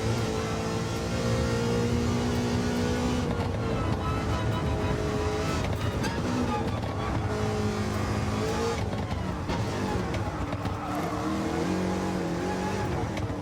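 The Roadster Shop Road Rage Camaro engine howls at full throttle on a racing circuit, a loud continuous high-revving roar with rising and falling pitch through gear changes, alone without talking.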